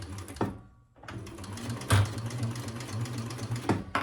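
A sewing machine stitches a bag seam in quick bursts, its motor whirring and its needle clattering rhythmically, with a short pause between runs and a few soft handling knocks.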